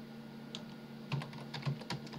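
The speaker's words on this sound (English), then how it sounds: "we type in here W3" Computer keyboard keys tapped to type a WordPress plugin name, a short run of faint, quick clicks with a few louder strokes, close by and with no talking.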